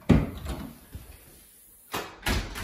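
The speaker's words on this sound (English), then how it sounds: "That door closes automatically, which is nice." An automatically closing door in a residential two-car garage thuds shut near the start, followed by faint rustling and a couple of softer knocks in an echoey space, with no speech.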